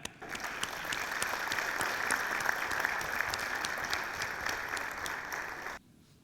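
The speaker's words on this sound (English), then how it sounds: "Please, everybody, give a thundering round of applause to Shantanu AP, CEO of SPI Group." A conference audience at the SMEWorld 2016 inauguration gives a steady round of applause, dense and even for about six seconds before cutting off abruptly.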